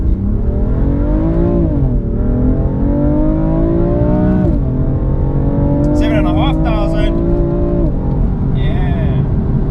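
A BMW M4 Competition, heard from inside the cabin, accelerates hard in first gear. The engine drone rises steadily in pitch with brief dips at the shifts, loud and constant, with a few short chirps over the top.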